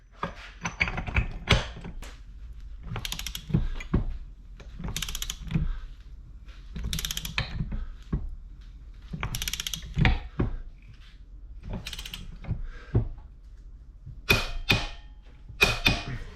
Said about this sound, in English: Then we'll use the torque wrench to fully torque it back into position.